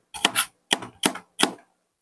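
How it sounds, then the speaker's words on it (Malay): A knife chops ginger on a cutting board in four distinct, evenly spaced strikes, close and crisp, with silence between cuts. "Halia pun saya hiri ni"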